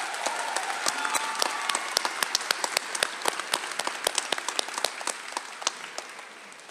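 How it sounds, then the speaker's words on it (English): Sparse, distinct claps from a graduation ceremony audience honoring people at a high school, individual hand claps heard separately and unevenly rather than as a full ovation, moderately distant. "Let's please give them a hearty round of applause."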